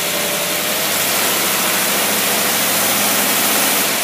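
A Jacks Tripower engine runs at full throttle against a pony brake dyno load, giving a steady, loud, low-pitched roar with a constant rumbling drone throughout.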